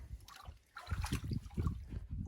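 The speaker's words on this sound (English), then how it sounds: "we're in the water" Water sloshes and splashes in irregular surges, like feet pushing through shallow water, with a low rumbling bed of noise underneath, in Grand Staircase National Monument.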